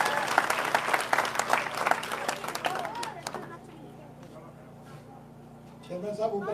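Crowd at a village political rally in Kami village, Gannaur, bursting into loud sustained applause and clapping with cheering, fading to quieter murmur before clapping picks up again at the end.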